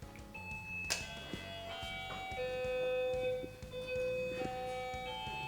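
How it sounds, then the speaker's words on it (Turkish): A doorbell chimes a bright multi-note melody at an apartment door on an upper floor of a walk-up building, the tune ringing clearly with steady sustained tones over faint background noise. "Hemen kapıyı çalalım."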